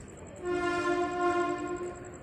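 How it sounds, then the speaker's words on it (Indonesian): A Tokyo Metro 6000 series train horn sounds one steady, harmonically rich blast lasting about a second and a half, fairly distant, over a low rumble, at Bogor station. "Dari bunyi klaksonnya sih Tokyo Metro seri 6000."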